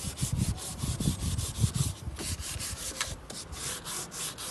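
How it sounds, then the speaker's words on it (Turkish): Rhythmic back-and-forth rasping of sandpaper scrubbing plastic filler on a cracked Tofaş Doğan/Şahin car dashboard, close and steady, with short strokes repeating throughout. "Şimdi bir kat geçtikten sonra zımparaya atacağız."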